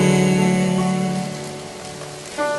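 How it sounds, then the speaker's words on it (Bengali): Rain falls steadily on a surface, a continuous patter with a faint tonal hum that fades slightly before swelling again briefly. "বৃষ্টি"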